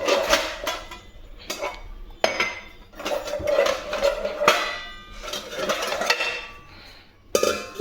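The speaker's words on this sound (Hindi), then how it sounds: "बर्तन निकलते हैं, आवाज़ कितनी करते हैं।" Metal kitchen utensils and dishes clatter and clink as they are taken out, in repeated loud bursts of ringing metal with brief pauses between them, close by.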